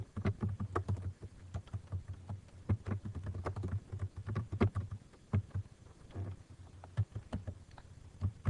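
Rapid, uneven tapping of computer keys during patient registration data entry, steady clicks close by for several seconds with brief pauses, alone without talk.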